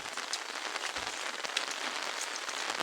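Steady rain patters on a hard surface in a village, a dense close hiss of drops with a few louder splats.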